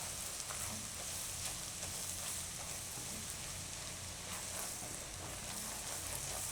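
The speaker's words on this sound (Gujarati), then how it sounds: "હવે આપણે આમાં નાખીશું ચણાનો લોટ, એટલે આમાં શેકાઈ જાય" Gram flour roasting with mixed vegetables in a pan for a Gujarati bhaji dish gives a steady, close, hissing sizzle with soft stirring scrapes, continuous and without talk.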